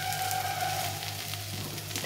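Green banana and potato slices crackle in oil in a frying pan, a steady near sizzle with soft popping and a low background hum, with no one speaking.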